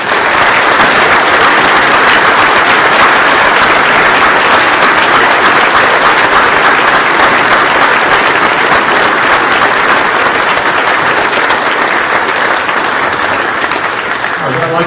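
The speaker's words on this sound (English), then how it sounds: "Please give them a round of applause." Sustained, dense applause from a large audience fills a school veterans salute ceremony, loud and continuous for the whole stretch with only a slight fade near the end.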